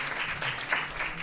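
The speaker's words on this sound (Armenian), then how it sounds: "Այո, եկեք մի անգամ էլ ծափարենք" A studio audience claps together in a soft, continuous patter of applause that stays even and fairly quiet for the whole moment.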